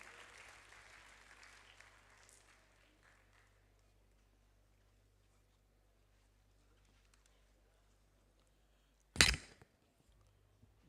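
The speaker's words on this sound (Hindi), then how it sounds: "बहुत ज़्यादा तालियां हफीजुल्लाह खान नियाजी साहब के लिए." An audience at the International Poultry Expo (IPEX 2022) gives a speaker a faint, distant round of applause that fades out over the first few seconds, followed by near-silence and one sharp, loud knock close to the end.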